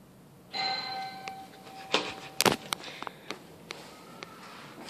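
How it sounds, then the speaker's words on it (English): A doorbell chimes once with a clear ringing tone, followed by a few sharp knocks and clacks that fade into quiet. "You even have a doorbell."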